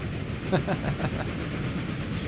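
A long, heavy freight train accelerates uphill nearby with a steady low roar and a short run of rhythmic clanks early on, the engine droning continuously.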